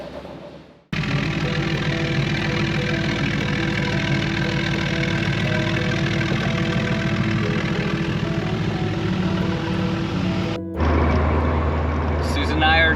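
The engine of a hot rod roadster runs with a steady, loud, close rumble that starts abruptly and continues without a break, then changes tone near the end, with a voice heard briefly.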